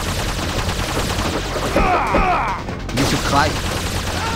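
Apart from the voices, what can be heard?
gunfire in the video game The Red Star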